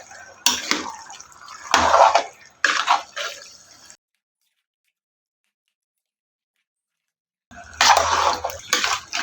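Washed chicken being mixed into fried masala in a pan for a village-style dish, with scraping, stirring bursts for several seconds, then a stretch of silence, then more stirring.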